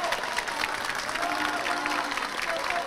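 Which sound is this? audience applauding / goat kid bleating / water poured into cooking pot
audience applauding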